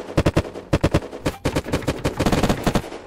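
Rapid bursts of gunfire in the survival game Unturned during a PvP fight, loud close shots fired in quick strings with brief pauses between volleys, continuing steadily without any talk.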